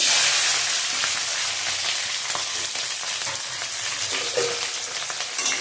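Green chilli and onion fry in hot mustard oil with cumin seeds, giving a steady close sizzle and hiss that eases slightly over the few seconds, with occasional stirring and no talk.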